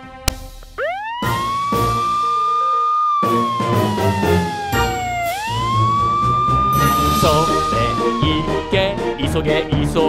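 A fire engine siren in a children's cartoon wails loud and close, rising and falling in long sweeps with brief gaps, backed by bright cartoon music.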